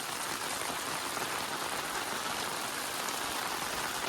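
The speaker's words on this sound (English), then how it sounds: "Yep, still raining." Steady rain pours over a shop construction site, a dense even hiss of drops on surfaces with no pauses, fairly loud and close throughout.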